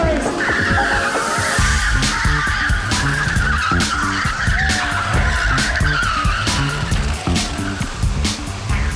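Racing karts roar around a 1.8-kilometre circuit on Sentosa Island during a 24-hour endurance kart race, with loud, continuous high-pitched engine whine, repeated tire squeals and skids, and karts rushing past close by.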